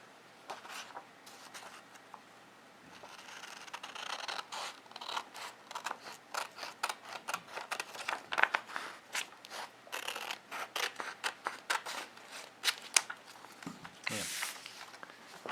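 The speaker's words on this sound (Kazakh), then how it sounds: "Қайыншымен қиып." Scissors snipping through folded paper for paper snowflakes, a quick run of sharp crisp cuts with brief pauses, close up and moderately quiet.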